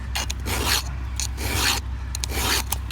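Hand file sharpening a chainsaw chain out in the bush, close rasping strokes repeating in an even rhythm, about five pushes over a few seconds, with no talking.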